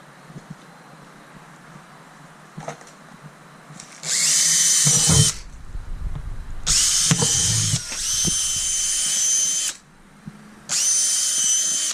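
A power drill whines through plastic in several loud bursts, each running a second or two, separated by short pauses with quiet background between.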